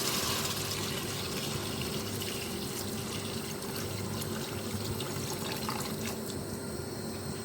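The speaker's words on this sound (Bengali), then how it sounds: "যেহেতু পাতলা ঝোল হবে, এই জন্য জলটা একটু বেশি পরিমাণে দিয়েছি" Water poured into a pot of browned mutton for a thin curry, a steady, continuous splashing rush that stays even and fairly close for the whole stretch, with no voices.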